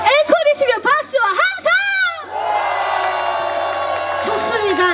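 At the Gijang seaweed and kelp festival, a trot singer's voice calls out over the stage before an outdoor crowd erupts into loud cheering and applause, a broad roar of shouts and clapping that fills the rest of the moment.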